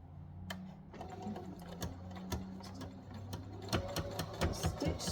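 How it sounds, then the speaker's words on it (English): A sewing machine runs a basic straight stitch, a close, steady mechanical chatter of rapid needle ticks and motor hum with a few louder clicks near the end. "So I just turn my machine on and I'm just using the most basic stitch."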